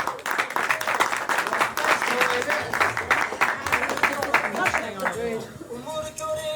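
An audience at a celebration applauds a speaker taking the floor, a steady burst of clapping from many hands that thins toward the end, while voices talk over it.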